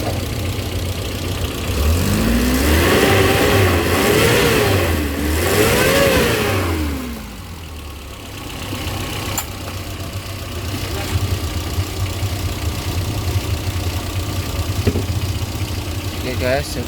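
A Suzuki Carry 1000 engine revs up and down in a few rising and falling pulls, then settles into a steady idle, loud and close, while someone talks over it.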